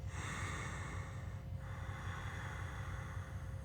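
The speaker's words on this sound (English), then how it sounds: "Deep breaths." A slow, deep breath during yoga practice, close and steady, with a long airy inhale and exhale over a soft, constant room hiss.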